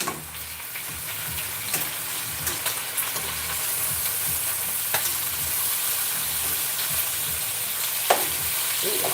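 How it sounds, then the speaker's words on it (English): Bacon sizzles steadily in a frying pan, a loud continuous crackling hiss with occasional scrapes and clinks as it is stirred and flipped. "I'm gonna flip the bacon."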